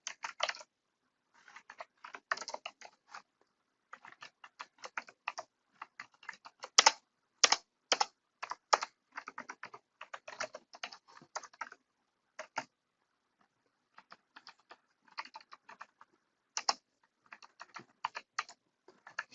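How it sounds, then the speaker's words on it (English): Quiet, irregular clicking from fingers typing on a computer keyboard, coming in quick bursts separated by short pauses, with no voices. "Should have stuck to typing."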